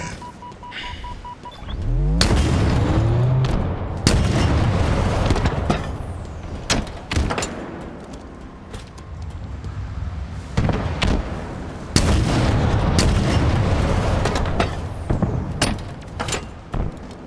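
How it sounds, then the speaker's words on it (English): Explosions boom in a video game, a chaotic run of loud blasts and sharp bangs spread across the stretch, with rumbling decay between them. "Fire! Explosions!"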